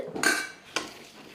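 Masala peanuts being stirred with spice powder in a bowl: two quick metallic spoon scrapes and clinks against the bowl, close and fairly quiet, with no voices.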